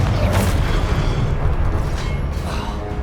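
A fiery blast spell from a wizarding video game, a loud rumbling boom with a sustained roaring burst of noise that slowly fades, with no voices.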